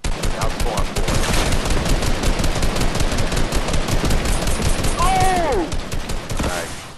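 Rapid gunfire from a Fortnite match aimed at a player's build, sustained bursts of shots cracking continuously for several seconds, loud and close, with a brief whistling effect near the end and players talking over it.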